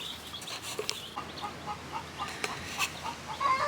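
Baby chicks peep softly in a brooder indoors, with scattered short high cheeps over a quiet room background and no talking.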